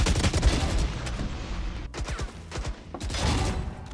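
Rapid bursts of gunfire from the tactical shooter game Valorant crackle up close in quick volleys with short pauses between them, loud and repeated, with no speech over them.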